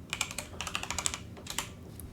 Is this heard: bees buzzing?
no